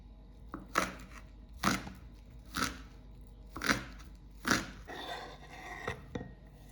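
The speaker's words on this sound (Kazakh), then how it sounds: "Одан кейін көк пиязды кесеміз." Green onions cut with a knife on a board for a tuna salad, about seven crisp, evenly spaced chops, close and fairly quiet, with no talking.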